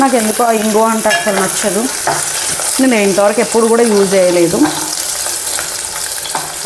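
Loud, constant sizzling of garlic frying in hot oil, close up, while someone speaks over it.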